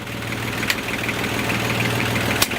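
A small boat's inboard engine idles with a steady low chugging drone that stays even throughout and is heard close up, with no talk over it.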